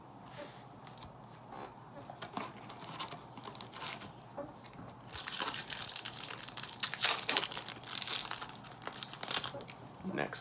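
Crinkling and tearing of a plastic wrapper on a My Little Pony collectible card game booster pack, close and faint at first, then louder crumpling, while a voice talks quietly at times.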